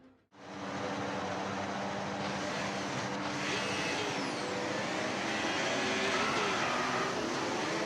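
Formula 1 cars in a racing video game pulling away on the formation lap, a steady, dense engine drone that holds for the whole stretch after a brief quiet start, with no voices over it.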